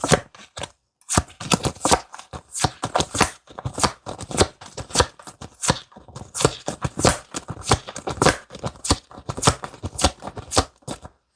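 Tarot cards are shuffled close up in a long run of rapid, crisp riffles and slaps with brief pauses, loud and without talk.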